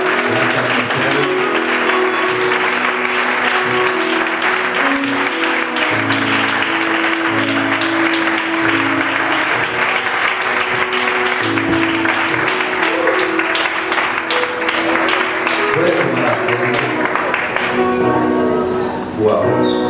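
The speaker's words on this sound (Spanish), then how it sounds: "Vamos a darle un fuerte aplauso al Rey" A church congregation applauds during a worship service, a steady loud wash of clapping lasting throughout, with music tones and voices sounding underneath.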